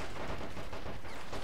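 Autocannon fire from Men of War Assault Squad 2 multiplayer fills the clip as dense, rapid, continuous booming bursts that blend into a loud, unbroken barrage with no pauses or voices.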